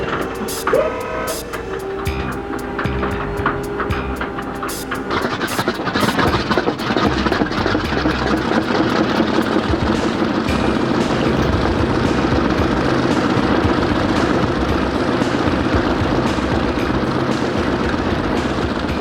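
A Corsair fighter's 2,000-plus horsepower piston engine sputters and coughs into life, then settles into a loud, continuous rumbling roar that holds steady.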